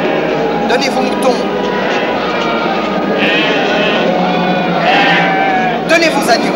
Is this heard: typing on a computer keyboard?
no